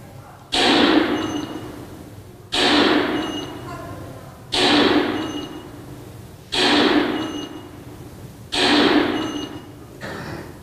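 Simulated gunshots in an active shooter drill at a school safety town hall, five loud sharp bangs about two seconds apart, each decaying in room echo, with faint background murmur between them.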